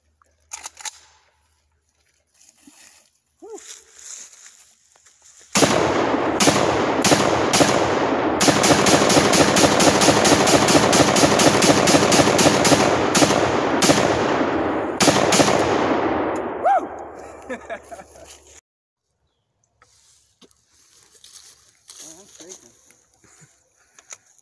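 An AK-47 rifle fires long, rapid bursts of loud gunshots outdoors on a farm, the automatic fire running for about ten seconds before the scene falls quiet, with brief talk before and after.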